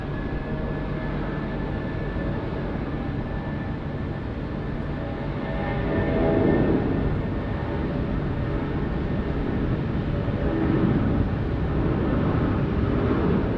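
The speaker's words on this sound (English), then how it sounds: "Takeoff just now." A plane taking off from runway 16 right at Sydney Airport, a broad distant jet roar that swells slightly midway and holds steady to the end.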